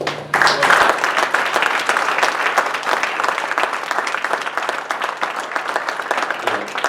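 A large crowd applauds steadily and loudly at a disc jockey conference, sustained dense clapping that continues throughout without letting up.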